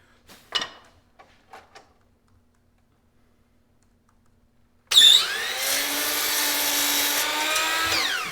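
Wood being cut on a jointer in a woodworking shop: after a few faint taps and near silence, the machine starts abruptly and runs as a loud, steady whine with broadband cutting noise for the last three seconds.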